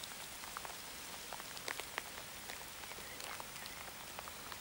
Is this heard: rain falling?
yes